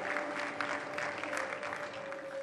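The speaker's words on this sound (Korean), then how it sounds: "환호성이 절로 납니다." Audience applause and cheering for a taekwondo demonstration team breaking pine boards on stage, a dense steady wash of clapping with a sustained tone running underneath, continuous and fairly full throughout.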